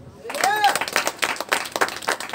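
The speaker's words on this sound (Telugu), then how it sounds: "చప్పట్లు కొట్టండి" An audience at an outdoor gospel meeting breaks into brief, scattered clapping that overlaps a voice.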